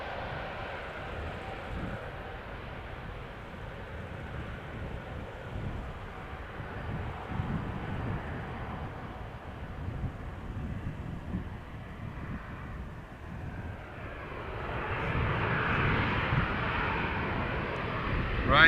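An airplane departing at Amsterdam Schiphol Airport, a broad rumbling engine roar at a distance that holds steady and then swells louder toward the end, with wind buffeting the microphone.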